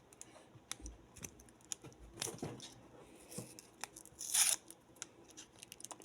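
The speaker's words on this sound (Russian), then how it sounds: "Распаковывается шоколадка." A chocolate bar wrapper is torn open close by, with crinkly tearing and rustling and a sharp louder rip near the end, and no talking.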